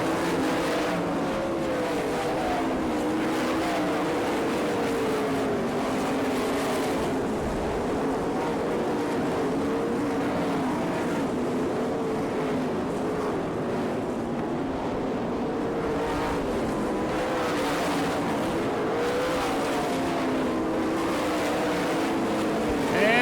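Sprint-style race cars roar continuously around a dirt oval at a Florence, Kentucky racing event, a dense, steady engine drone with rising and falling passes heard from the stands at a moderate distance.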